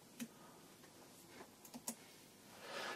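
A few soft, separate key taps sound on a Bluetooth keyboard as a short PIN is entered, quiet and close against a faint room hiss.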